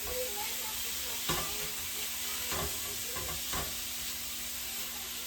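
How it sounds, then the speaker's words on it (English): Ground beef sizzles steadily in a hot pan, with a few scraping stirs breaking through the constant hiss. "we're going to start sauteing it up"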